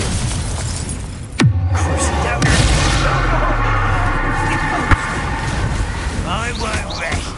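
A Confringo fire spell blast in the video game Hogwarts Legacy erupts as a sharp boom followed by roaring, crackling fiery rumble, loud and close amid battle effects, with a brief second impact partway through.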